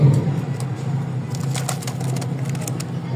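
A pair of light-coloured pet pigeons of a fancy breed coo softly from close by while a person speaks quietly.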